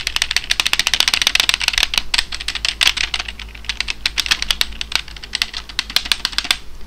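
Rapid, continuous clacking of keys on a mechanical computer keyboard, crisp and close, with dense irregular keystrokes throughout and no talking.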